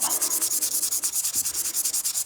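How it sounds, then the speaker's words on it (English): Steady back-and-forth rasping of sandpaper dry-sanding a cyanoacrylate (CA) finish, cross sanding to remove radial scratches; quick regular strokes repeating close by with no talking. "I'm going to go ahead and do my cross sanding, get those radial scratches out."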